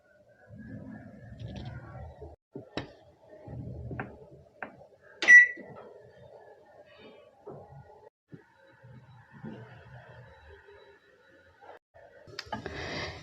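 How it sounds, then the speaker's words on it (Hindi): Microwave oven cooking a mango papad mixture of mango pulp and sugar; a steady low hum runs throughout, with a sharp beep midway and scattered clicks and knocks nearby. "इसे मिक्स करके 10 मिनट माइक्रोवेव कर लेंगे।"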